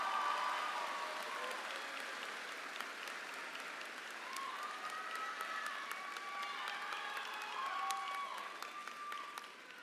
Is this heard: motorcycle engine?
no